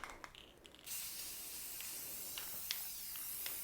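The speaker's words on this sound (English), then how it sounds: "Okay, so all I did is spray it." A spray paint can sprays a pumpkin in one continuous, close hiss after a few soft clicks and taps at the start.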